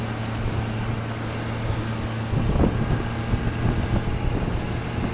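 A boat engine on open water off Portugal during orca watching, its steady low drone rising and thickening as the craft speeds up, with wind buffeting the microphone throughout.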